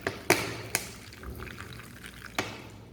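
Colourless vinegar is poured into a container of water, and a few sharp knocks and clinks from the bottle and container stand out over a soft liquid trickle, close by, with no voices.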